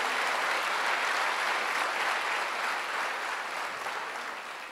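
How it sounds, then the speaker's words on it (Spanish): Church congregation clapping in praise, a dense, even roar of many hands that holds steady and slowly tapers off toward the end, with no voices over it. "Dele el aplauso a Dios si usted quiere aplaudir."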